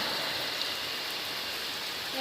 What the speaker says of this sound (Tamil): மழை திரும்ப ஓவராக வருது